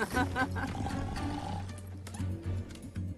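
A cartoon character imitates a tiger's roar in a Slovak-dubbed animated film, a short growling roar over a busy music and effects bed, with voices around it.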